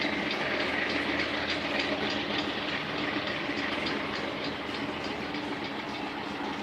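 A train chugging past, a continuous loud rumbling roar with a rhythmic clickety-clack of wagons running steadily throughout, heard alone without talking.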